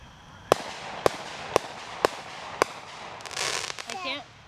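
Illegal fireworks set off across a lake: five sharp, evenly spaced bangs, each about half a second apart, at moderate distance, followed by a brief crackling burst and faint voices near the end.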